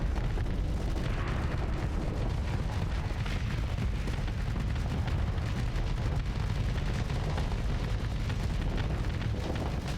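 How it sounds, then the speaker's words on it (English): Vulcan cannons in the space combat game Starsector fire in a dense, continuous stream of rapid booming bursts, loud and unbroken for the whole stretch with no pauses. "I believe our Vulcan cannons are doing their best."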